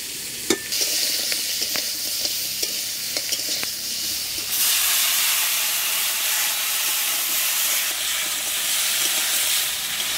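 River crabs from the Sundarbans frying in oil in a pan: a few sharp stirring clicks over a soft sizzle, then a loud, sustained hissing sizzle bursts up as ginger-garlic paste is added and continues steadily.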